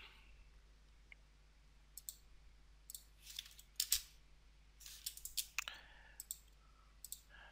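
Computer mouse clicks while working in AutoCAD, a scatter of quiet, sharp clicks in irregular bursts, some in quick pairs, close to the mic with no talking.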